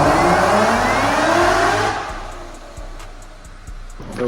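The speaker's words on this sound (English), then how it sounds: "Getting some wheel spin here." Supercharged Ford Mustang spinning its tires on a dyno: a loud, high engine roar for about two seconds, then dropping off to a quieter idle with a few faint clicks.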